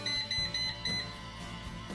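An air fryer's control panel gives a quick series of four short, high electronic beeps as the temperature is set, close and clear over faint kitchen background noise.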